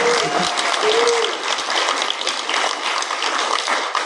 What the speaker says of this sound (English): Back here, you can clap.